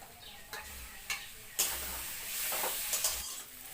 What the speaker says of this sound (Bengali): কাজু বাদামটা দিয়ে আরও 2-3 মিনিট আমি কষিয়ে নিলাম